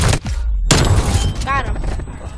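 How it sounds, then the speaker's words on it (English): Stun grenade blast in Call of Duty Black Ops, a sharp burst followed by a crackling, ringing aftermath and scattered gunfire, with players talking over the game. "Located it, stun grenade."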